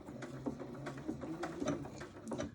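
A sewing machine fitted with a quarter-inch foot runs a short burst of stitching in reverse while piecing flying geese quilt blocks, giving a close, steady mechanical whirr with light rhythmic clicks and no talking.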